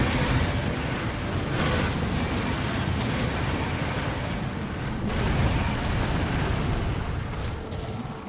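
Nuclear missiles explode in modded Factorio, a continuous deep rumbling roar of blasts layered over one another, loud and sustained for the full stretch with repeated booming surges.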